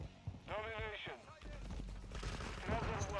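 AK rifle gunfire in Modern Warfare II rattles out in a short burst of rapid shots, partly overlapped by a voice talking.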